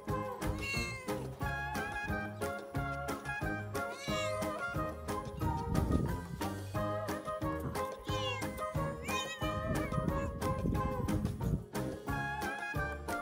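A cat meows repeatedly over busy background music, with several drawn-out, wavering cries scattered through the stretch.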